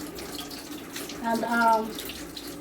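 Tap water runs briefly over food tins being washed in a sink, rising for about a second under faint background sound.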